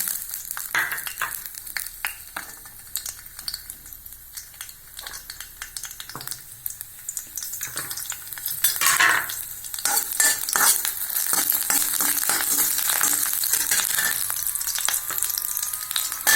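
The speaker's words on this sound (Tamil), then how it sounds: "அடுப்பை ஆன் பண்ணி கடாய் போட்டிருக்கேன், ஆயில் ஊற்றிருக்கேன். இப்போ நம்ம இதெல்லாம் வதக்கிடலாம்." Ingredients sautéing in hot oil in a kadai for tomato chutney, with frequent close spoon scrapes and clinks over a sizzle that swells louder and denser in the second half, no voices.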